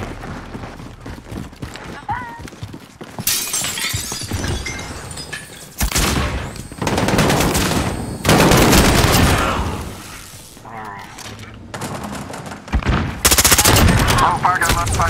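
Sustained bursts of automatic gunfire from Call of Duty Modern Warfare (2019), rapid sentry-like rattling fire in loud repeated volleys with short gaps, mixed with game effects and occasional voices.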